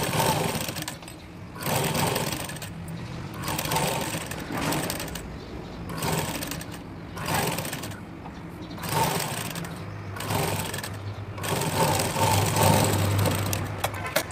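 A sewing machine stitching folded fabric down the middle: repeated runs of fast, steady mechanical whirring, each lasting a second or two, separated by short pauses, close and continuous over the stretch.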